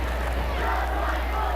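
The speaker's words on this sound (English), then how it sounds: "There's the just like football chant." High school basketball fans in a packed gym chanting the 'just like football' chant, a dense loud roar of voices that never lets up.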